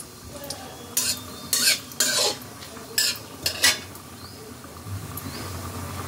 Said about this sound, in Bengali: এবার আমি এর মধ্যে দিয়ে দিচ্ছি গোটা জিরে আর তেজপাতা। কয়েক সেকেন্ড একটু নাড়াচাড়া করে নেব।